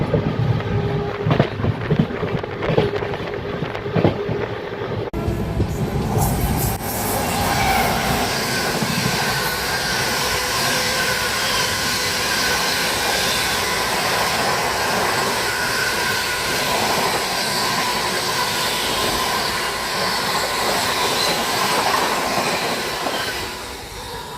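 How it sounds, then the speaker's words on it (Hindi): Kanpur Shatabdi Express rushing past alongside a moving Magadh Express as it overtakes, a steady loud roar of wheels and rail clatter filling the whole stretch, with a sharper burst at the start. "दूसरी बार ओवरटेक कर गई है गाइस हम लोगों को कानपुर शताब्दी एक्सप्रेस।"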